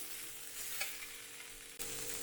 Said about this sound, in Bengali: চিনি দিয়ে নাড়াচাড়া করে নিই।